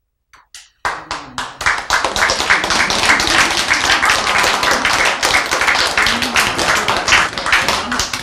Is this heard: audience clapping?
yes